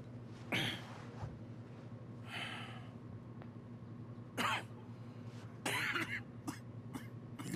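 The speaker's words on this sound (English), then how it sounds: "Oh, there goes the cough." A character in the video game Red Dead Redemption 2 coughs in several harsh bursts, some close together and others spaced seconds apart, with throat clearing in between and a steady low hum beneath.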